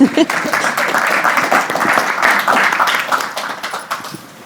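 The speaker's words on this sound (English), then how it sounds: "So give him a warm round of applause" Symposium attendees give a speaker warm applause, a dense patter of clapping at fairly close range that holds steady for several seconds before thinning out.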